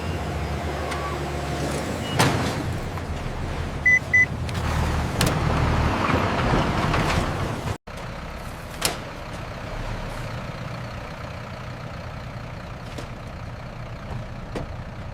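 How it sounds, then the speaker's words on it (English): Loaded Britannia bread delivery trucks pull away from a bakery at staggered intervals, a steady broadband rumble of heavy engines passing fairly close, with a sharp clunk like a door or air brake midway and no talk. "Loaded Britannia delivery trucks depart the bakery for retail destinations."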